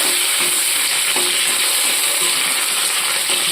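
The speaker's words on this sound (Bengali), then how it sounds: "তারপরে এর মধ্যে দিয়ে দেব কারি পাতাটা, লৌহিতে একটু তেলে নেব" Curry leaves hitting hot oil in an iron wok after white cumin seeds, giving a loud, dense, continuous sizzle that crackles steadily without let-up and no voices over it.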